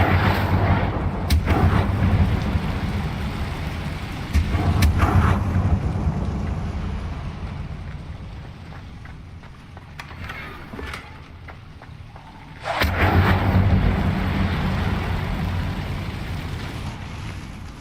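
Incendio fire spell cast in Hogwarts Legacy: loud, sustained roaring whoosh of flame with booming bursts that swell, fade over several seconds, then surge again, with no talk.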